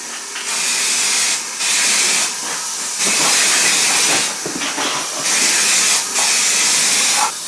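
Aerosol spray can of primer being applied to a car bonnet on an Opel Kadett, with repeated loud hissing bursts of about a second each, separated by short pauses, close to the mic and no talking.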